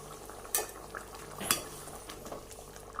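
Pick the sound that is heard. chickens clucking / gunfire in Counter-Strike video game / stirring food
stirring food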